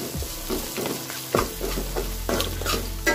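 Crushed garlic, pepper, ginger and cumin are stirred in hot oil for a street-stall style chammanthi, giving a steady close sizzle broken by several scraping strokes of a spoon against the pan, with no talking.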